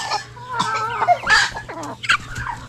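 Chickens clucking on a farm right after feeding, several close birds giving a busy mix of clucks and squawks, with a faint steady hum behind them.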